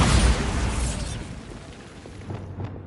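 A Bombarda spell in Hogwarts Legacy detonates as one loud explosive burst, then the boom rumbles and fades, with a few small debris pops near the end.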